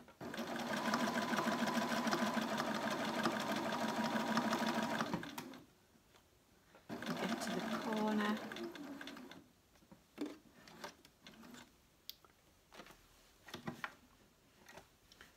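Sewing machine stitching straight across the bottom of a fabric peg bag, a loud steady run of about five seconds, then a shorter burst near seven to nine seconds, followed by quieter clicks and handling sounds.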